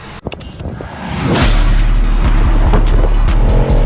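A blue Bugatti Chiron supercar starts up with a sharp crank, then its engine settles into a loud, steady, deep idle rumble that holds right up close to the microphone.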